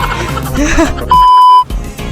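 A timer for a three-minute spicy chicken eating challenge gives one loud, steady electronic beep lasting about half a second, between bursts of people talking.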